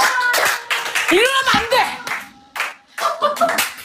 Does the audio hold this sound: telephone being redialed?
no